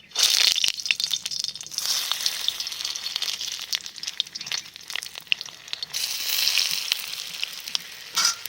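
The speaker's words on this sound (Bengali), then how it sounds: "পটলগুলো দিয়ে দেবো।" Pointed gourd (potol) frying in hot oil in a wok, a steady crackling sizzle with bursts of spattering, close and continuous, with no talking.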